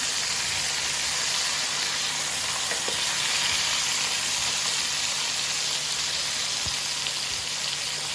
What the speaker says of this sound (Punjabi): ਇਸ ਤਰ੍ਹਾਂ ਮਸਾਲਾ ਵੀ ਵਧੀਆ ਭੁੱਜ ਭੁੱਜ ਜਾਂਦਾ ਹੈ